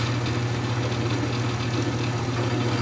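A bearing race test machine with oil-lubricated race, running at a steady loud motor hum with a strong low tone and constant whirring, no speech.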